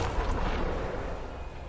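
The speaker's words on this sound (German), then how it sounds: "Genau als ich losgelaufen bin, ist er explodiert." A deep, rumbling blast in the video game Diablo IV that booms at once and then fades over a second or two, heavy in the low end.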